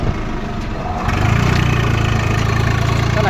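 A tractor engine idles nearby with a steady low chugging rumble that grows slightly louder after the first second, with no talk over it.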